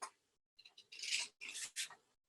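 Scissors cut through cardboard in a few quiet, close snips and crunching strokes separated by short pauses, with no talking.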